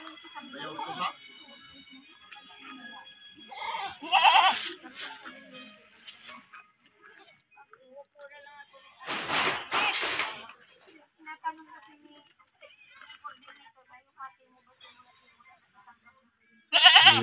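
Goats bleat in several separate calls, some close and loud and others fainter, mixed with people talking casually on a farm.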